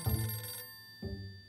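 An old-style telephone bell rings in two bursts, a bright metallic trill for about half a second, a pause, then a second ring starting, clear and close with no talk.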